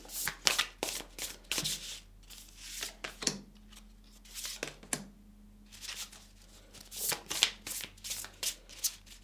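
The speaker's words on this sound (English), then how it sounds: "Okay. Some tarot cards." Tarot cards are shuffled by hand in repeated soft riffling bursts with brief pauses between, close and fairly quiet, with no talking.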